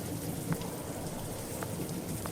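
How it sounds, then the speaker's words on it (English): Steady rain falls on a street in a Victorian London setting within a Sherlock Holmes versus Jack the Ripper video game, a continuous hiss of raindrops with a few faint splashes, no voices. "It's raining."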